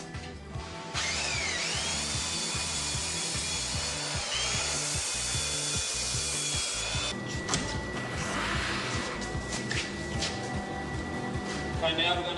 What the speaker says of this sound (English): Now just going to sand the core up with the belt sander.